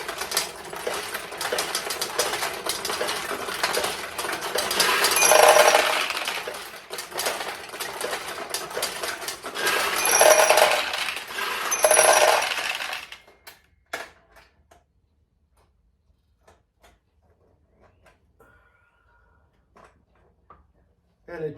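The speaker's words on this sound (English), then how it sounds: "you're going to put a bunch of balls in here and just start to shoot them" Nishijin pachinko machine, a single-shot conversion, firing balls in a dense run of rapid metallic rattling and clicking, loud and busy with two swells, stopping abruptly after about thirteen seconds and leaving near silence with a few faint ticks.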